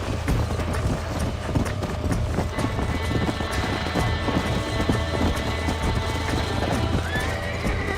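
A horse gallops in Red Dead Redemption 2, a steady rapid clip-clop of hooves under wind noise, with a whinny near the end.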